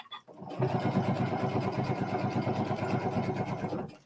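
A sewing machine runs a steady stitching pass around the front of a piece, a fast even mechanical chatter starting abruptly and holding at a constant pace for a few seconds before stopping.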